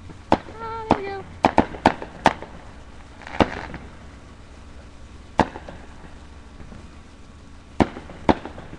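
Neighbors' July 4th fireworks go off at varied distances, sharp bangs and pops scattered irregularly, a few whistling as they rise, over a faint background hum.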